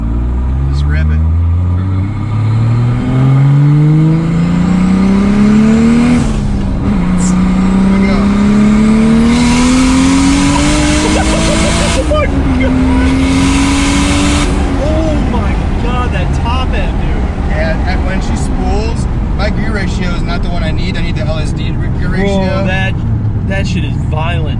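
700hp Lexus IS300 on R888 tires accelerating hard from inside the cabin, engine pitch climbing repeatedly through several gear shifts, loud and sustained, with occupants talking over it.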